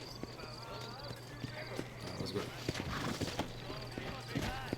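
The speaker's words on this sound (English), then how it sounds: "Time to mount them horses." Rhythmic hoof clip-clops patter steadily over a low constant hum and game ambience in Red Dead Redemption, while a person speaks briefly over the top.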